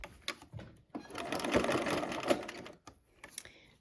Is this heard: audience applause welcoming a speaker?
no